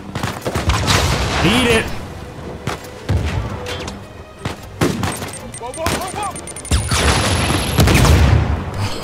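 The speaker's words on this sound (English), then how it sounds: "Let's spam a couple grenades up here." Grenade blasts and bursts of gunfire in the video game Uncharted 4, loud booms and rapid shots through the whole stretch with someone shouting over the combat.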